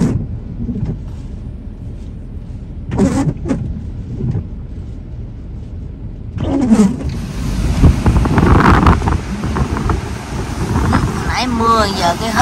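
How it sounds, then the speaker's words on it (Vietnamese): Ocean waves crash on the Florida shore while wind buffets the microphone during Tropical Storm Debby. A person talks over the surf, and the roar builds loudly in the second half. "Trời ơi sóng dập đã luôn."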